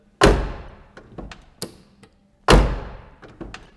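Door of a 1970 Chevelle SS396 shutting twice with a solid, heavy thunk, each followed by fainter rattles and small knocks, close and clear with no talking.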